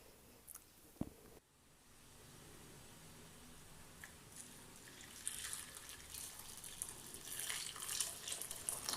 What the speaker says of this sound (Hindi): चने की दाल को अच्छी तरह से धो लेंगे और इसको भिगो देंगे